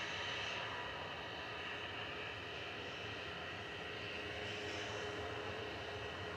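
A Norwegian Boeing 737-800 jet departs Manchester Airport for Copenhagen, a faint, steady, distant engine roar that holds evenly throughout with no voices.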